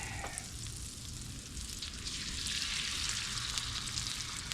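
Eggs fry in butter on a Blackstone griddle, a steady close bright sizzle and crackle that grows slightly louder as it goes, with no talking.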